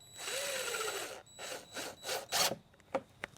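A power drill drives screws into a giant gingerbread birdhouse, a sustained whirring burst followed by several shorter spurts and a couple of sharp clicks, close and fairly quiet.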